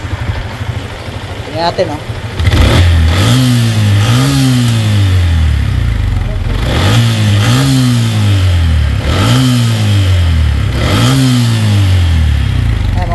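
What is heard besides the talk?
Yamaha Sniper 150 motorcycle engine starting and revving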